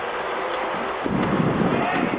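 Wind gusting across an outdoor soccer pitch during a Windsor City versus Waterloo United match, a steady broadband rush that swells louder halfway through, with no commentary over it.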